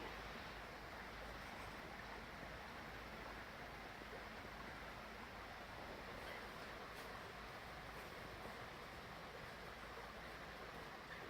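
A small waterfall in a river at Susquehanna State Park in fall gives a steady, broad rushing of water, faint and continuous for the whole stretch with no speech.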